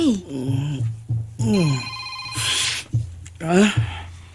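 A cellphone rings with a repeating electronic ringtone, loud and close, in a series of bursts while a person talks over and between the rings.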